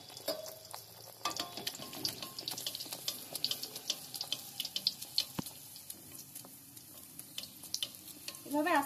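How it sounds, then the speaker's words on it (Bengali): Eggless nanpuri dough slipped into hot white oil sets off a bubbling fry, close by, with scattered clinks and splashes, some watery sounds and a brief burst of sizzling near the end, and no talking. "গ্যাসে আমি তেল আগে থেকে গরম হতে বসিয়ে দিয়েছি, সাদা তেল। এবার আমি পুরিটা ছেড়ে দিচ্ছি।"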